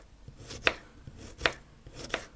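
A knife slices peeled Jerusalem artichoke into thin slices on a board, making three crisp, evenly spaced cuts close by with no talking.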